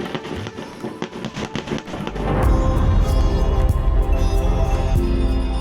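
Fireworks display during Diwali festivities: scattered sharp pops and crackles for about two seconds, then a loud, dense, sustained roar of bursts and rumbling crackle that fills the rest of the stretch.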